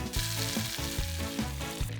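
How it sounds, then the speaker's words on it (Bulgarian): Butter melts in a hot pan on the stove while fish bakes, giving a steady crackling sizzle with a faint rhythmic scraping of stirring, close and continuous. "Докато рибата се пече, разтапям масло"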